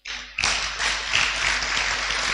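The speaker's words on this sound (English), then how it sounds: "give each other a round of applause" Audience applause at an evening hackathon awarding ceremony, a dense sustained round of clapping from a crowd that starts abruptly and carries on steadily to the end.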